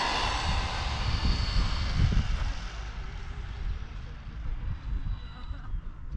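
An Arrma Senton 3S radio-controlled car runs at half throttle outdoors, its electric motor and tyres making a continuous whirring roar that holds steady, then gradually eases and thins out over several seconds.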